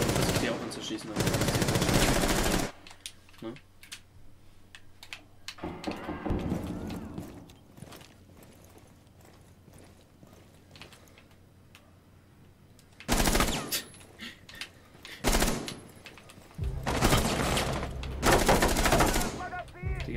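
Bursts of automatic gunfire from Rainbow Six Siege on an Oregon construction-site map, loud rapid volleys at the start and again near the end with quieter stretches of scattered shots between, and players talking over parts of it.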